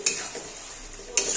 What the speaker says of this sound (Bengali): এখন একটু নেড়ে দিই।